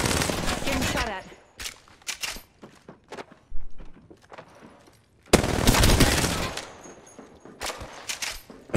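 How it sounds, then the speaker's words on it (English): Gunfire in an online shooter video game, with bursts of rapid shots and scattered single cracks, a loud dense volley at the start and another at the end, separated by quieter footsteps and thuds. "Getting shot at."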